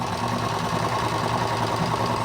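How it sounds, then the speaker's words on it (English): Sewing machine chain-stitching a run of fabric masks, a loud continuous rapid mechanical whirr at close range, with no voices. "what I'm doing now is I'm sewing the tops of all these masks"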